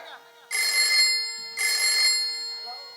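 A telephone rings twice in bright electronic bursts, each about half a second, with a brief pause between them.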